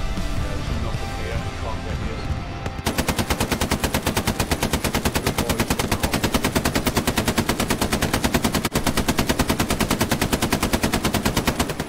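Sustained machine gun fire in the World War II shooter Hell Let Loose, a rapid, steady stream of loud, close bursts that runs almost unbroken after a short stretch of mixed distant gunfire, with a voice talking over the start.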